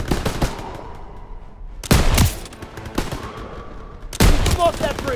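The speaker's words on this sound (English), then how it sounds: "MGs, open fire!" Loud machine gun fire rings out in the World War II shooter Call of Duty WWII, repeated bursts of rapid shots cutting in and out, with brief voices in between.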